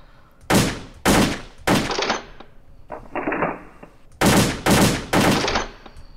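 Bursts of AK-47 fire at a shooting range in the World of Guns video game, seven loud separate volleys with short pauses between them, plus one quieter, duller burst in the middle.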